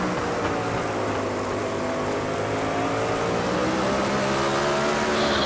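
Sprint car engines roar steadily in an iRacing race at Southern National Motorsports Park, a loud continuous drone with shifting, overlapping pitches as several cars run close together on track.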